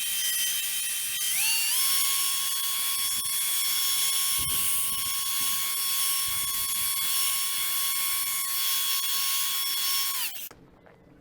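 A machine polisher spins up and runs steadily on the paintwork of a 2010 BMW S1000RR, removing swirls: a high, constant whine with bright tonal hum for about nine seconds, then abruptly winds down and stops.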